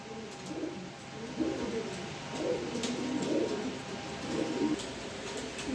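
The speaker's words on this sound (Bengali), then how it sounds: "এক পেয়ার ইউলো কালার লাহরি কবুতর আছে ডিমের উপরে আছে" Soft, low cooing of yellow Lahori pigeons repeats in gentle rolling phrases over a steady background hum, fairly close and moderately quiet.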